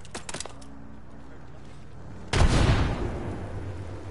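A frag grenade explodes in Apex Legends as one loud, booming blast with a rumbling decay, following a few faint clicks and a quiet stretch.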